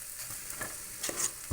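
Potatoes frying in a pan with softened onions and garam masala for aloo paratha stuffing, a faint steady sizzle with a few soft stirring scrapes, no talking.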